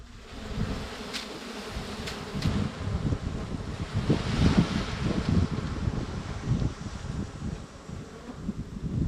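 Bees buzz thickly and continuously around a wild honeycomb nest being pried out during a harvest in Thailand, a close, dense swarm hum with rustling and wind noise at the microphone.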